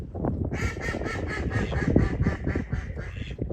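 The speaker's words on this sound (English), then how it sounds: "the ducks can't see each other." A series of rapid duck quacks repeats steadily for several seconds, fairly close, over a low rumbling background.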